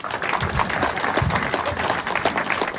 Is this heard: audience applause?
yes